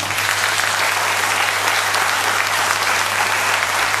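A concert audience in Mons applauds the event's sponsors, a loud, dense and even wall of clapping that holds steady throughout without letting up.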